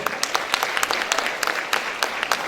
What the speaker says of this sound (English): A huge round of applause, children.